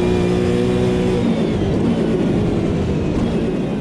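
A supercar engine revs hard in the Automobilista 2 racing game, a loud, close, sustained growl with a steady pitch that roughens and thickens after the first second.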